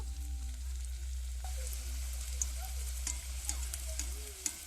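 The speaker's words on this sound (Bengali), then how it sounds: "এগুলোকে ভেজে নেব আর তেল গরম হয়ে গেছে এরপরে ভেজে নেব" Dough snacks frying in hot oil, a steady low sizzle and bubbling heard close and alone, with faint occasional crackles and small clicks.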